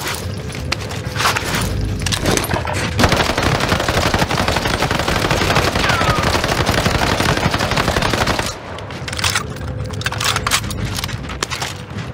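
Sustained, dense gunfire from a video game match rattles on for most of the span, with automatic bursts packed closely together, loud and near, then easing somewhat toward the end.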